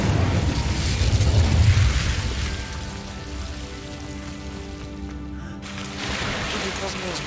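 Incendio fire spell cast in the video game Hogwarts Legacy, a whooshing, crackling burst that swells loud early, then settles into a sustained burning rumble under game music, with speech present.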